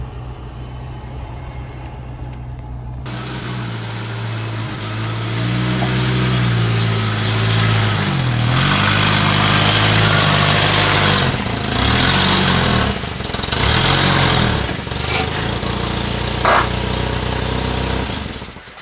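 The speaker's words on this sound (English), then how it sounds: "It's the nicest sounding 240 blower motor I've heard in a while." A Volvo 240 heater blower motor hums and whirs steadily throughout, rising in pitch and wavering at times, loud and close.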